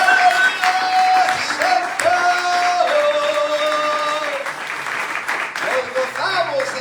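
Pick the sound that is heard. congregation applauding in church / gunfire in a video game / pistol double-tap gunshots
congregation applauding in church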